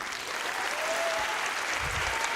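Audience applause at a science show for a volunteer, a steady dense burst of clapping filling the room for a couple of seconds.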